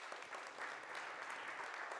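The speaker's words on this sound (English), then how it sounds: "one more time, one applause to Jos" Applause from the audience at a climate-neutral smart cities forum in Ljubljana, a steady, fairly quiet wash of clapping that keeps going evenly the whole time with no voices.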